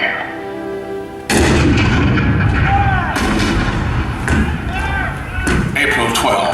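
Cannon fire marking the 1861 bombardment of Fort Sumter booms out in the Hall of Presidents show at Disney World, a sudden loud blast followed by further heavy reports over a dense roaring battle din.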